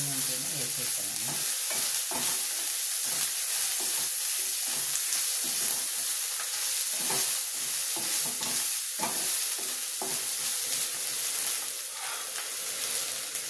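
Spices such as cardamom and cloves fry in a pan for mirchi masala curry while being stirred, giving a constant loud sizzle broken by repeated scraping strokes of the spoon.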